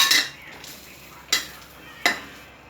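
Chili, garlic and shallots being stir-fried in a pan: three sharp scraping stirs of a utensil against the pan, spaced apart, over a low steady sizzle.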